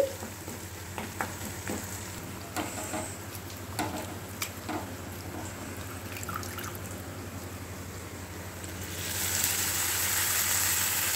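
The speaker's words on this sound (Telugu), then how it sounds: "పచ్చివాసన పోయే వరకు అల్లం కొంచెం వేగనివ్వాలి" Ginger paste frying in hot tempering oil with turmeric and asafoetida, a steady close sizzle broken by scattered spatters and stirring scrapes, growing louder and brighter near the end.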